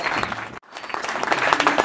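An audience at a live comedy-music show applauds a newly introduced group, a dense burst of clapping that drops out for a split second, then swells back up loudly.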